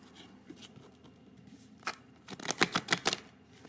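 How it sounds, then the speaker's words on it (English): A quick burst of crisp riffling clicks, cards being shuffled close by after a few soft rustles, then quiet. "Okay, we'll shuffle one more time."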